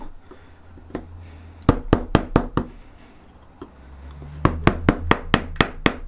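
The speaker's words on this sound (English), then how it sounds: "Just going to use this V chisel to take out" A mallet strikes a V chisel cutting into a chunk of oak in two bursts of sharp, evenly spaced knocks, five then six blows, close and loud over a quiet room.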